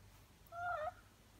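A house cat gives a single short, clear meow close by in an otherwise quiet room.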